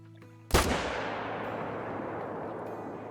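A single loud rifle shot is fired at a whitetail buck in the hunting video game theHunter: Call of the Wild, a sharp crack followed by a long rolling echo that decays slowly over several seconds, with no talking.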